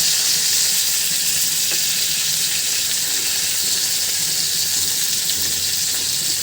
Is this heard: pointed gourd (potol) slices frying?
yes